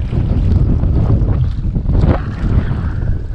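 Steady, heavy wind buffeting the microphone on a fishing boat at sea, over the boat's rumble and splashing water, continuous and loud with no voices.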